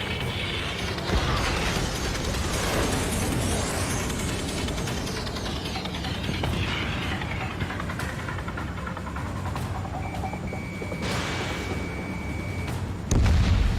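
Fighter jet cannon fire in the air-combat game Ace Combat 7, a dense, continuous roar of rapid shots layered over engine rumble, loud and steady throughout with a heavy burst near the end.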